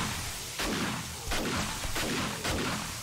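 Explosions from demolisher zombies during a huge zombie horde fight in the video game 7 Days to Die with the War3zuk AIO mod: four or five loud, dense booming blasts in quick succession over a constant roar.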